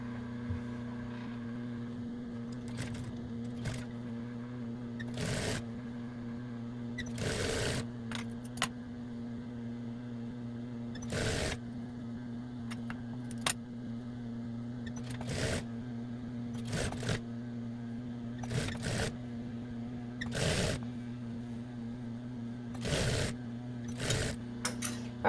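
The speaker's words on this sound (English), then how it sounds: "we're going to sew it all the way across" A sewing machine hums steadily at moderate volume while sewing straight across the edge of a hooded towel. Repeated short clicks and knocks of handling cut through the constant drone over a long stretch.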